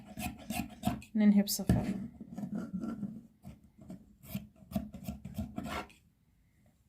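Scissors cut through fabric for a dress pattern in a series of close, rasping snips and rubs, with someone speaking briefly between cuts before the sound fades out.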